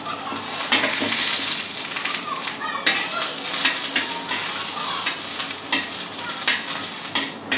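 Green chilies fry in a little oil in a pan for a Marathi sandgyachi bhaji, a loud continuous close sizzle with scraping stirs and occasional clinks.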